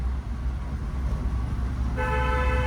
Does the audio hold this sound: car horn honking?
yes